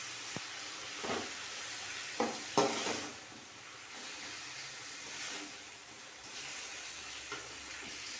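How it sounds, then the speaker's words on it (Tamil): Tomatoes sautéing in a pan: a soft, continuous sizzle with faint steam hiss, broken by a few quiet scraping stirs, close by but low in level, with no talk. "தக்காளி நல்லா வதங்கட்டும்."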